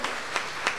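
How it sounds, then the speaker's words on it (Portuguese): Brief clapping from a church congregation during a worship service, a short, moderately loud patter of hands with a few distinct claps standing out. "Você pode aplaudir ao Senhor."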